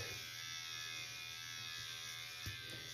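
Electric clippers buzz steadily and evenly close by while shaving a men's hair unit, a constant electric hum with one small bump near the end and no speech.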